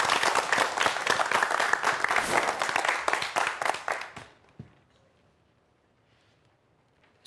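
A lecture audience claps for a physics professor about to speak on quantum mechanics, a dense, loud burst of applause lasting about four seconds before dying away into near silence.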